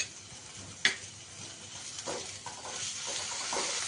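Spice paste of ground ginger and green chili, with cumin and coriander paste, fries in a pan, giving a soft steady sizzle with faint stirring and a single sharp clink near the start.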